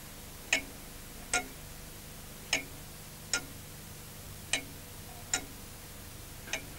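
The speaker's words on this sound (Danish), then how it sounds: "der hører jo både pendul og lodder til et ur" A pendulum clock in a clockmaker's home on Bornholm ticks steadily, with crisp, even ticks just under a second apart over a faint background hiss.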